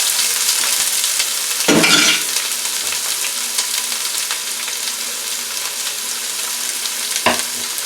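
Purple onions sizzle steadily in a frying pan with a continuous bright crackle, broken by a couple of louder stirring scrapes as they cook.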